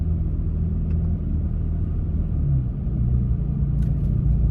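Inside a Toyota Tacoma pickup cruising at about 23 mph, a steady low road rumble and engine drone fill the cab, loud and continuous with little change.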